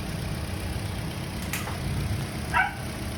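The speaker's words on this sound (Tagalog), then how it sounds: "Napakatahimik ng makina." A car engine idles very quietly after basic maintenance with fresh engine oil, a steady low hum running throughout with a couple of faint brief chirps above it.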